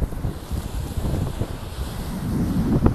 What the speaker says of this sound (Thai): ดูนี่คลื่นมันสาด